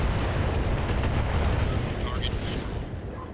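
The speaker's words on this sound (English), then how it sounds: "When we did the LRM explosions, when we hit his LRM ammo" LRM ammunition exploding inside a mech in the video game Battletech, a heavy rumbling blast with crackling bursts that slowly fades over a few seconds.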